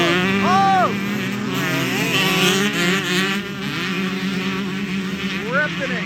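Two-stroke motocross bikes tear around a turn at a world championship race in San Bernardino, California, high revving engines rising and falling as several machines pass close by, loud and continuous.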